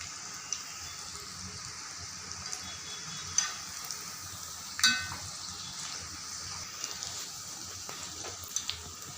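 Rathasaali rice pakoda deep frying in hot oil, a steady soft sizzle and crackle with a few sharper pops and bubbling bursts, moderately close and without voices.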